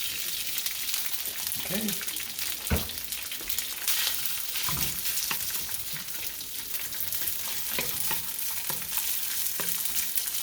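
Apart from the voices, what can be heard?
day-old white rice frying and stirred in pan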